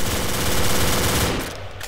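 Sustained loud automatic fire from an M4 carbine in a Minecraft zombies game, a dense unbroken stream of rapid shots that thins out near the end.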